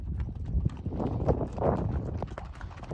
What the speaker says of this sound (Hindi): अफजल वाला घोड़ा ही नहीं चल रहा है